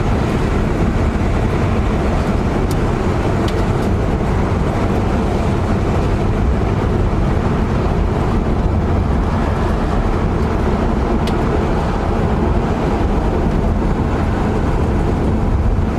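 A 1973 Chevy Nova on its first drive in 20 years rumbles along with a loud, steady engine and road noise from inside the car, the transmission shifting without any distinct break in the drone.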